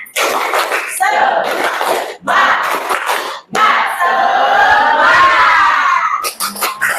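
A high-school class shouts and claps a rhythmic group spirit cheer in bursts, loud, close voices and hand slaps in several energetic phrases separated by brief pauses.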